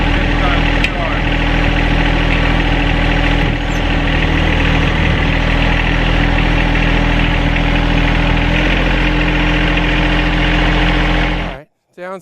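A Weldanpower 150 welder/generator engine runs close and loud with a steady low rumbling idle and strong vibration, briefly cutting out at the end.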